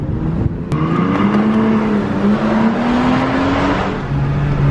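Toyota Tacoma fitted with a Runnin4Tacos high-clearance exhaust, revved up in a rising sweep after a sharp blip, then settling to a deep, steady drone, loud and close with no talk.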